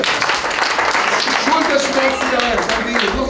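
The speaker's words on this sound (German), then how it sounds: "Lass mal klatschen für Jesus." A church congregation at a Saturday evening service claps along in a dense, steady patter while voices speak and call out over the applause.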